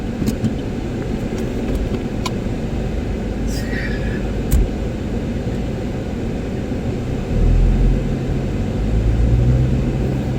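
A car on the move gives a steady low engine and road rumble for the whole stretch, swelling a little toward the end, with people talking inside.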